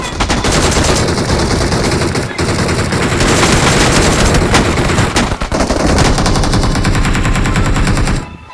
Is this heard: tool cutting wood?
no